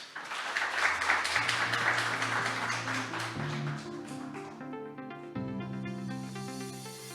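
An audience claps together at a Korean business workshop, with a dense burst of applause that fades as steady background music takes over.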